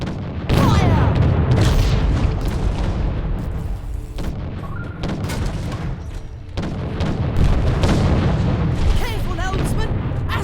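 Ship cannons firing in the space-pirate naval game Treasure Planet: Battle at Procyon, heavy booming volleys rolling almost continuously and loud throughout, with brief dips between salvos.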